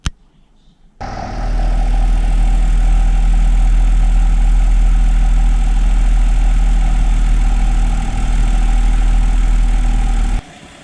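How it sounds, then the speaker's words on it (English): A 2007 Kia Sorento engine idling after a new idler and tensioner pulley, a steady low hum that starts abruptly, holds evenly and close for about nine seconds, then cuts off. "Now that's a quiet motor."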